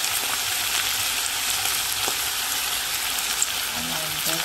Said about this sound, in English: So now I'm frying it with corn oil now